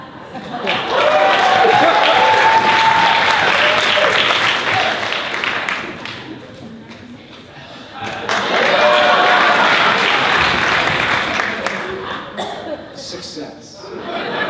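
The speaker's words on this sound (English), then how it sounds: "And I will hold for applause." Applause from an audience in a comedic skit, arriving in two loud bursts with a quieter lull between them, mixed with chuckles and laughter and voices talking over it.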